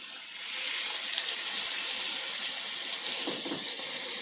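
Pasta water poured into a skillet of thick leftover queso for a creamy chicken pasta, giving a steady close hiss and trickle of running liquid that holds for several seconds.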